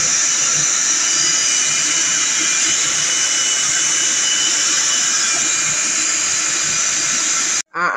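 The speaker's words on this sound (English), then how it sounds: "we're going to put it over here in the blender" Kitchen blender running at high speed, pureeing braised birria ingredients minus the cinnamon sticks and bay leaves; a loud, steady whirring roar holds for the whole stretch and cuts off abruptly at the very end.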